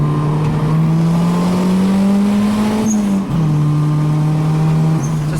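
A Nissan B13 Sentra with an upgraded MAF sensor accelerates hard in second gear from about 35 toward 60, its engine a loud, steady drone climbing gently in pitch, with a brief dip midway before pulling on.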